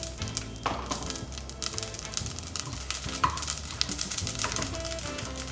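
Cumin seeds hitting hot oil with a cinnamon stick for Bengali khichuri, giving a steady close sizzle and crackle with light scattered taps from a spoon or pan, no talking.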